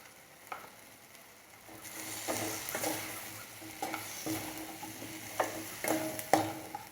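Boiled potatoes fry in masala over a low flame with a soft, continuous sizzle. Irregular spatula scrapes and clinks of stirring are close and moderately quiet.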